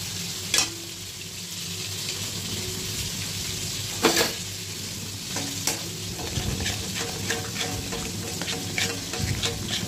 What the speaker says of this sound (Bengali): এবারে এটাকে ভালো করে মেশাতে হবে, যেন লাম্প না হয়ে যায়।